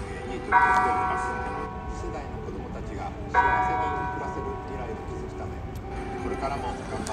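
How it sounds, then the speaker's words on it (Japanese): Two bell strikes ring out in a Fukushima city street, about three seconds apart, each with a long shimmering decay, over steady outdoor background noise. "ちょうど鐘が。"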